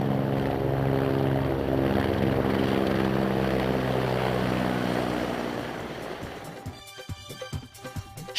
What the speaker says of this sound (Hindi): यहीं यात्रियों की मदद के लिए भारतीय सेना का हेलीकॉप्टर